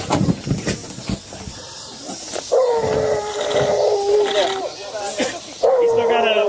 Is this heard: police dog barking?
yes